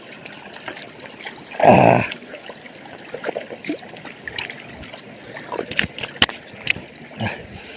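Water piped down from the hills flows through a channel in a Konkan orchard, giving a close trickle with a brief louder splashing gush near the start, followed by light dribbling and scattered drips.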